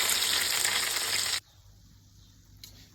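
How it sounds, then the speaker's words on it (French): Pain perdu frying loudly in brown butter, a dense steady sizzle that stops abruptly partway through, leaving a quiet hiss and a small clink. "Mon beurre noisette un peu doux et on met à rôtir."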